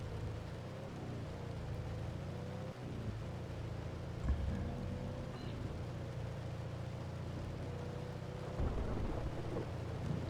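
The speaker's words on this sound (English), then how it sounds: "the thunder is so quiet, even when the lightning strikes are close." Thunder from a storm in the video game Outbrk rumbles low and quiet beneath a steady wash of rain, with soft swelling rolls rather than sharp cracks.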